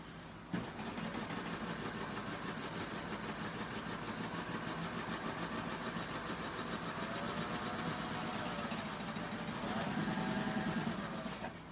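A Babylock serger runs a chain stitch seam with a continuous rapid mechanical whirr and needle chatter that holds steady for several seconds and grows slightly louder near the end.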